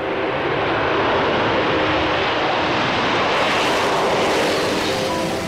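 Concorde jet engines roar during takeoff, a loud, continuous, broadband rumble that fills the whole stretch without letup.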